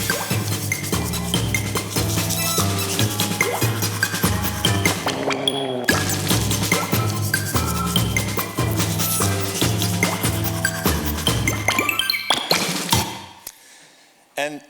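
Upbeat electronic music for a Philips Sonicare toothbrushing game, built on a steady pulsing beat with bright plinks, clinks and bubbly pops, loud and continuous before cutting out near the end.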